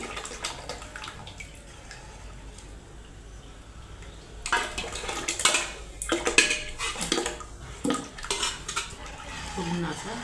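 A ladle stirs sorghum papad batter in a metal pot, quiet at first, then sharper scraping and clinking strokes against the pot come in irregular bursts during the second half.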